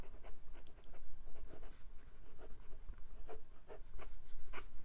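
Stiff extra-fine steel nib of a Hongdian N7 piston-filler fountain pen writing on paper: faint, close scratchy strokes in a quick irregular rhythm, alone.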